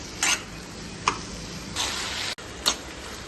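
Brinjal for chutney cooking in a pan, a faint steady background hiss broken by a few short bright scrapes or sizzle bursts of stirring, close and quiet, with no talk.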